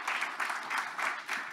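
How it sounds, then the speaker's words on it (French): Audience at a conference panel on online fraud applauds the guests, a short burst of dense clapping with a pulsing rhythm, moderately close. "on va pouvoir conclure, les remercier, les applaudir, les remercier d'avoir joué le jeu."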